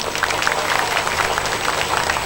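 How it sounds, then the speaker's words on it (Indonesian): Dense, continuous applause from a crowd at an Islamic religious gathering in Indonesia, many hands clapping at once in a steady roar. "Tepuk tangan untuk NU."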